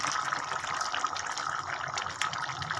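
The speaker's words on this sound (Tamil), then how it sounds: "கொஞ்சம் புளி தண்ணி ஊற்றிக்கலாம் தேவையான அளவு" Tamarind water is poured into a pot of boiling curry, a soft steady gushing and bubbling of liquid at close range, fairly quiet and continuous with no talk.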